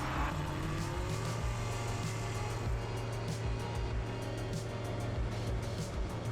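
Piper Super Cub light aircraft engine at takeoff power during a short intersection departure and steep climb-out, a loud, steady droning roar with a constant low tone that holds throughout without talk.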